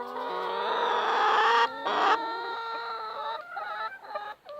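A dark red hen clucks and squawks loudly and close in a poultry-breeding yard, a steady run of tonal calls breaking into shorter clucks toward the end, with no talk.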